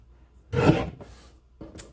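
Card stock from a geodes card kit trimmed horizontally on a paper trimmer: one loud rasping blade stroke lasting about half a second, then a fainter slide and a short final swipe, close by with no talk.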